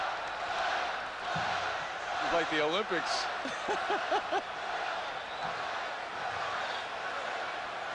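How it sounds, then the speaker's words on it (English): Arena crowd at the 1986 NBA Slam Dunk Contest, a broad steady roar of many voices filling the whole clip, with a commentator talking over it near the middle. "Let's see what happens as the crowd chants Spud."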